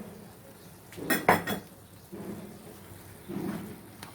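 Mashed potato kachori filling is stirred in a pan with a metal spoon: a cluster of sharp clinks and scrapes, then softer scraping strokes a little later, close and fairly quiet.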